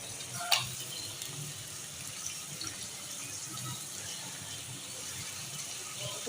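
Chicken pieces frying with onions in a pot for chicken haleem, giving a steady, moderately loud sizzle and watery bubbling throughout, with a brief sharp clatter near the start and no talking.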